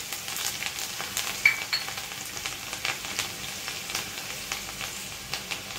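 Cumin seeds, asafoetida and green chili frying in hot oil for a chaulai bean and potato curry, a steady close crackling sizzle with scattered pops, no talk.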